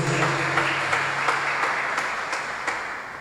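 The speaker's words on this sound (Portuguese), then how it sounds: "Vamos aplaudir o Senhor Jesus." A church congregation claps during a Portuguese-language sermon, a steady, evenly paced clapping over a faint sustained musical tone, fairly close and moderately loud.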